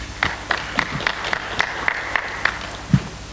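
Conference attendees at a Pan African human rights and counter-terrorism event clap in a slow, sparse, evenly spaced rhythm, about a dozen distinct claps, fairly close.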